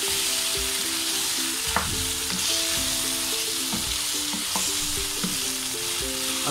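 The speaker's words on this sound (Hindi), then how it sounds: "अब 3 से 4 मिनट तक मैं और भूनूंगी इसे।" Qeema and potatoes fry in a pan with a loud, constant sizzle close up, while repeated stirring scrapes and metallic knocks sound over it, and no one talks.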